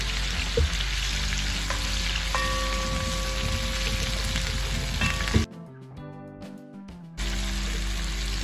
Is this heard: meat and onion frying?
yes